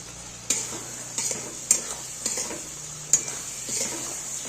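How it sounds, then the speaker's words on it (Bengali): Raw green peas tipped into a sizzling fried spice masala, a steady close sizzle punctuated by several sharp spoon clinks and stirring scrapes against the pan. "এই পর্যায়ে আমি এবার এই যে কাঁচা মটরশুঁটিগুলো ছেড়ে দেব।"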